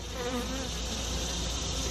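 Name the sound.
honey bees buzzing at front of hive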